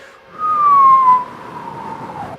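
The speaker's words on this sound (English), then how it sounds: "let me do the whistle" A person whistles one clear, sustained note that slides slowly downward, loud and close, then fades into quiet background noise.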